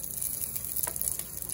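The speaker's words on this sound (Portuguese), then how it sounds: "Coloca essa cebola que sobrou de uma salada" Onion frying in hot oil in a cooking pot for a ground beef sauce, a soft, steady sizzle with a brief crackling burst partway through, close and continuous with no talking.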